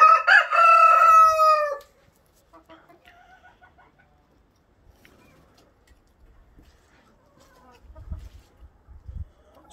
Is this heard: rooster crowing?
yes